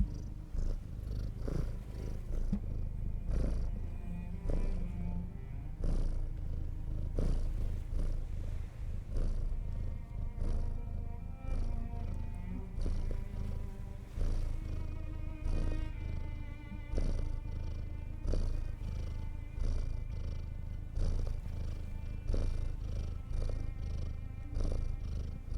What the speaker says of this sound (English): Hope you enjoyed the Tesla purrs